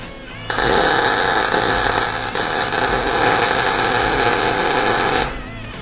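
Welding on an old water heater being converted into a barbecue: a loud, steady crackling buzz that starts abruptly, holds for about five seconds, then cuts off.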